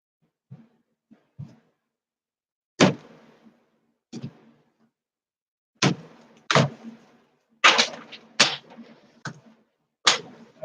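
Tarot cards are shuffled in short, sharp bursts of riffling snaps separated by silent pauses, close and crisp, with no voices present.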